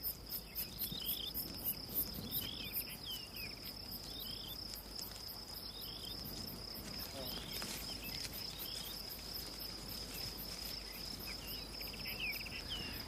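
Crickets chirp steadily and continuously through a natural nighttime-like ambience, a dense, high-pitched trilling that stays moderately loud throughout without pause, with faint rustling underneath.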